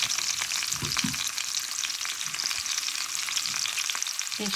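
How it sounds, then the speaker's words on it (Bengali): Cumin and onion fry in oil in a pan, a soft even hiss that holds steady throughout, with a few faint stirring knocks underneath and nobody speaking. "জিরাটা একটু ভাজিয়ে নিলাম পেঁয়াজটাও ভাজিয়ে নিলাম"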